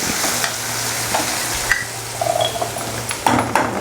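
Ingredients sizzle and fry in ghee in a home kitchen pan, with a steady crackle, stirring scrapes and a few light clinks of a utensil close by.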